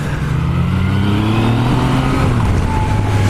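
A 2018 Yamaha MT-09 SP motorcycle accelerates on a test ride, its engine note rising steadily through a gear, loud and close with constant wind rush.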